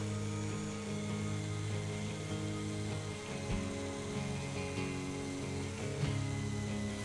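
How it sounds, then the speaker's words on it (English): Belt sander grinding down a handmade bottle opener, a steady loud droning whine with a shifting pitch as the metal piece is pressed against the belt. "The belt sander is a perfect tool for this"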